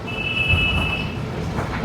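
An old tram runs through Kolkata with a steady rumbling rattle of wheels on rails and a brief high metallic squeal, heard from inside the car.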